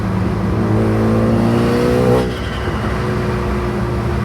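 A turbocharged forged Renault Megane RS engine revving, a steady loud drone that holds, then drops away with a whooshing release as the revs fall, no talk.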